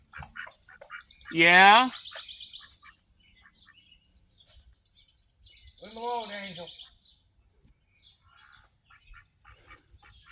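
Pet birds let out two loud, harsh squawking bursts a few seconds apart, shaken after a dog attack, with a person speaking briefly between the calls.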